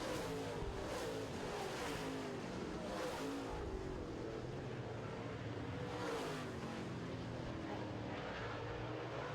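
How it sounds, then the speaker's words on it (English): Late model race cars on an oval track roar past in repeated swelling waves of engine noise, fairly loud with a continuous rumble, under a race announcer's commentary. "Greg Ferris continues to lead as he flies into turn 3 and 4."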